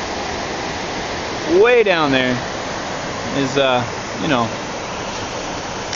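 A steady rushing roar of a waterfall in a steep gorge in the Sol Duc forest, Olympic National Park, fills the background while a person speaks briefly over it.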